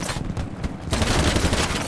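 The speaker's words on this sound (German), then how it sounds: "Ich werde hier von dem blöden Panzer abgeknallt." Tank gunfire in a multiplayer shooter game comes as a dense, loud volley of rapid shots that intensifies in the second half.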